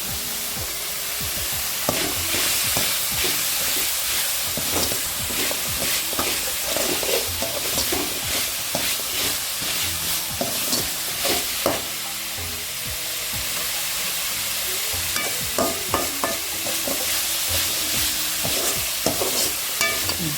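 Onions sautéing in oil with garlic and curry leaves for banana flower chutney, a steady close sizzle broken by frequent scraping stirs of a spoon in the pan, with no talking.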